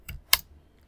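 Two brief keystrokes on a computer keyboard while a Gantt chart schedule for social housing works is typed up, a soft click followed by a louder, sharper tap, close and alone.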